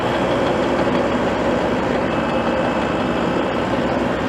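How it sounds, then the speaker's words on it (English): Tractor engine running up to PTO speed with a Dirt Dog RT Series rotary tiller engaged, a loud, steady, rumbling diesel drone with a knocking texture, no voices. "I'm going to kick it on, and then I'm going to speed my tractor up to PTO speed"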